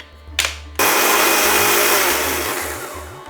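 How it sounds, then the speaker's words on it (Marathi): A mixer grinder blends curd with salt, starting with a brief whir and then a loud, steady, close-up motor roar with a rhythmic low thumping as the jar contents churn. "आता हे मिक्सरला फिरवून घेऊ"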